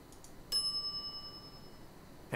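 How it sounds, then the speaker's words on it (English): A service bell on a counter in the video game The Secret of Monkey Island gives one bright, clear ding that rings on and fades slowly. A few faint clicks come before it, and another strike begins at the very end. "I step away from the counter for 2 seconds and some idiot's already ringing that stupid bell."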